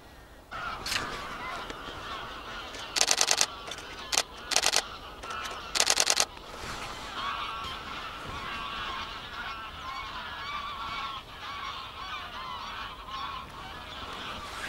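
A flock of geese fleeing honks in loud bursts, several clustered calls breaking out over a faint outdoor background in a national park in the early morning before quieting down.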